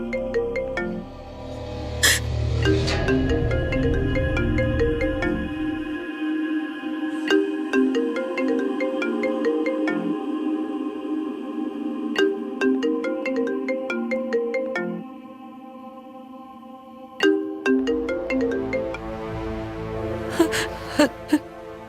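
A phone rings unanswered in a Hindi TV drama, repeating a melodic ringtone over and over for about twenty seconds, clear and steady, with soft breathy sounds at the start and end.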